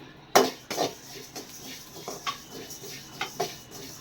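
Spices for sambar powder are dry roasted in a pan, with a sharp clank followed by soft scraping and tapping as they are stirred about, close and fairly quiet.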